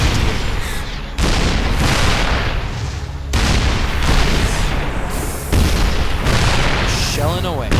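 Siege tanks in StarCraft 2 shell buildings with a string of heavy, booming impacts at irregular intervals, loud and close, mixed with game effects and a voice talking intermittently.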